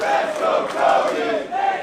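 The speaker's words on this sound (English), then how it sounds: "Competing crowd chants here" A wrestling crowd in Newcastle chants in a dense, rhythmic roar that holds steady throughout without a break.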